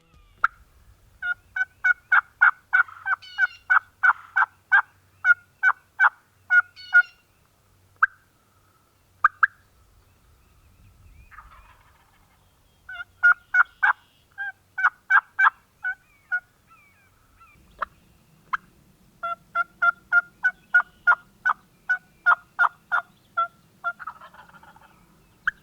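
A wild turkey gobbles repeatedly in Kentucky woods during a hunt, rapid rattling bursts in several bouts separated by pauses, clear and moderately near against a quiet background.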